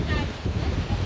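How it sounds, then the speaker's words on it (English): Wind gusts steadily across the microphone at a beach resort in Burundi on a rainy day, making a continuous rushing, buffeting roar that fills the whole clip. "it's quite windy over here."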